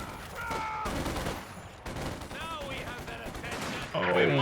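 Sniper rifle shots ring out in a Company of Heroes 2 battle, mixed with other gunfire. Sharp reports recur across the scene over a busy background of combat noise, with some talking underneath.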